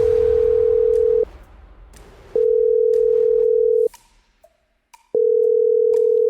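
Repeated telephone ringback tone from an unanswered call: three long steady beeps separated by pauses, clear and loud, with no one picking up.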